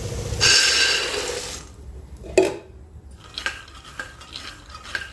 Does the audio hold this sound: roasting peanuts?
yes